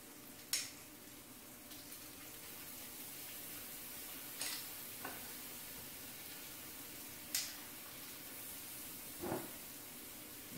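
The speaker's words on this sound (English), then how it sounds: "Stir that in until you start smelling the garlic coming off the pan." Garlic cloves sizzle faintly in a pan under a soft, steady hiss, broken by a few quiet scraping clicks as they are stirred every couple of seconds.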